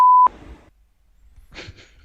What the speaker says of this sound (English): So there was some bleeping involved.